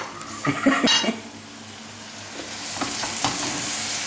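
Tomatoes and peppers sizzle in a pan as they are sautéed, with a few quick utensil scrapes and clinks early on, then a steady close frying hiss, no voices.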